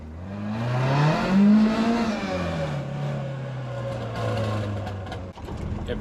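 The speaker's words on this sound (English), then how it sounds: "Launch control from the temporary traffic lights on my work road." A Ford Escort Mk2 engine revs hard for a launch control start at temporary traffic lights, its pitch climbing then settling into a loud, steady drone close by, with a brief dip near the end.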